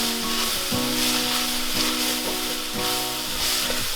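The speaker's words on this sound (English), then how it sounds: "and our 3 leeks. We're gonna saute these for about 5 minutes." Leeks sauté in a pan with a continuous close sizzle and a few soft stirring knocks, over a steady tonal hum in the background.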